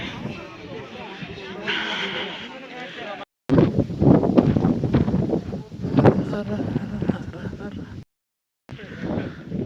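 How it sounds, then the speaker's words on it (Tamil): Strong wind blowing on the Sabarimala Pullmedu hill trek, a loud roaring buffet against the microphone with brief gaps, while people talk beneath it. "காற்று பயங்கரமாக அடிக்குதுங்க, ஆளே தள்ளுது காற்று, அந்த மாதிரி காத்தடிக்குது."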